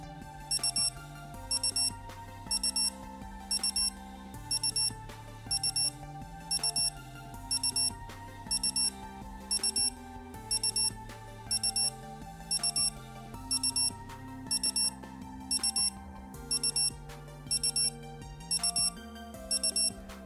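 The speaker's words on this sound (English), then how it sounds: "So we have a 20 second 3 beep alarm for the schedule memo" Casio AB-550 analog-digital data bank watch sounding its schedule memo alarm: repeated groups of three thin, high electronic beeps in a steady rhythm for about twenty seconds, close and clear with no talking.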